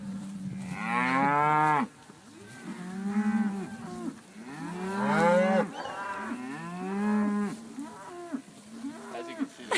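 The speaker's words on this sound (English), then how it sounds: "Guys, all the cows are saying hi." Cattle on a farm moo loudly and close by, several long drawn-out calls from different animals overlapping and following one another in succession.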